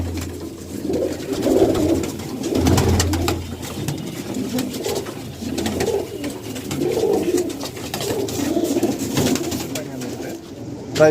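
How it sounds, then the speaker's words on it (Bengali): Male teddy pigeons coo repeatedly in a loft, soft rhythmic throaty calls overlapping at close range with faint background noise. "পাশের লাভটা আছে নর কবুতর এ হচ্ছে নর কবুতরগুলো"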